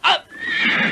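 A horse gives one loud, close whinny that starts with a sharp cry and trails into a long, wavering neigh.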